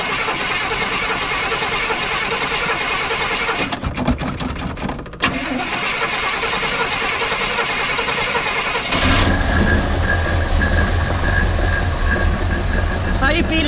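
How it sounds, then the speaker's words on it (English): A 1957 Chevy Bel Air V8 that sat for months cranks with a whirring starter and squeal, stumbles, then catches and settles into a loud rough idle close by, with people talking over it. "let's see if she fires up"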